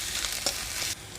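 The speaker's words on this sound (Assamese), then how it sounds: "আদা আৰু নহৰুৰ কেঁচা গোন্ধ যোৱালৈকে মই ভাজি থাকিম" Ginger and garlic with turmeric fry in a pan, a soft continuous sizzle with a short stirring scrape in the middle, close and fairly quiet with no voices.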